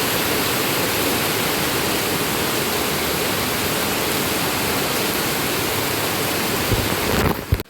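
Heavy monsoon rain in the Konkan pours down as a dense, steady roar that fills the whole stretch without a break, ending with a brief clatter.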